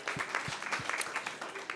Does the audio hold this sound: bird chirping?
no